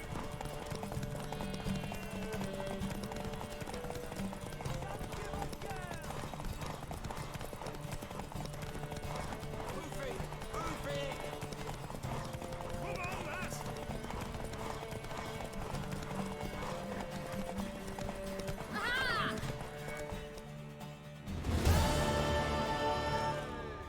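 Horse hooves clip-clop at a steady pace over continuous background music in the video game The Witcher 3: Wild Hunt, with a brief louder burst near the end.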